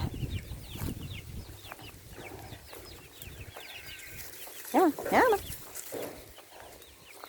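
Chicks and guinea fowl being herded on a farm give scattered soft clucks and chirps. Two sharp, louder calls burst out near the end over a quiet outdoor background, and a voice speaks briefly.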